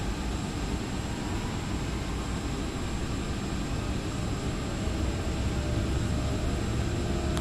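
An Icelandair Boeing 757-200 in the X-Plane 11 simulator holds takeoff power, its engines giving a steady, loud, broadband roar that stays even throughout with no voices.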